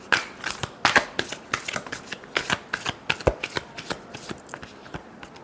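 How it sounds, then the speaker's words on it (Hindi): Tarot cards are shuffled by hand, a quick run of crisp flicks and snaps with a brisk irregular rhythm, close and clear, gradually tapering off. "Last shuffle."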